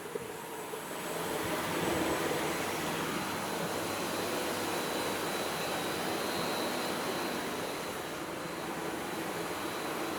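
A biogas-powered engine at a biogas plant in Sindh, Pakistan, runs with a steady, loud broadband roar that holds for several seconds with no one speaking.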